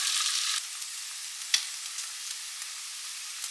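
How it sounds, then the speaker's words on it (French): Tofu cubes coated in starch fry in hot toasted sesame oil, giving a steady, fairly faint hiss and sizzle with a few small pops and crackles. "Une fois que l'huile est chaude, j'y ajoute mes cubes de tofu avec ma fécule."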